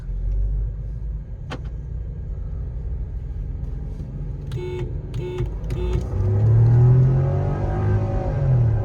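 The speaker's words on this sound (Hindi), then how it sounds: "और अभी कुशाक मैनुअल पीछे है, अब आ रही है, रील कर रही है और 100 पे निकल रही है आगे वो" Tuned Skoda Kushaq SUVs, stage 1 and stage 2, including a manual, in a roll race drag run: a steady engine rumble and road noise that swells louder as the cars accelerate, with a few faint beeps partway through.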